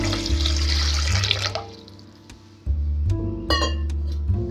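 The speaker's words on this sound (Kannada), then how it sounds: "ಅದಕ್ಕೆ ನಾನು ನೀರು ಹಾಕೋತಾ ಇದ್ದೀನಿ." Water poured into a cooking pot heating on the stove, a loud splashing stream that stops, pauses, then resumes with a ringing metallic clink and continued gushing.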